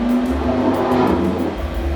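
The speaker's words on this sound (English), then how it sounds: "that was a car" A car drives past nearby, a loud steady engine rumble that swells and fades over a couple of seconds.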